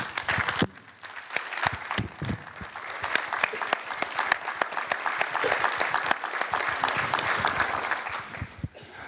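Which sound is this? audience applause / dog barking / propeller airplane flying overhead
audience applause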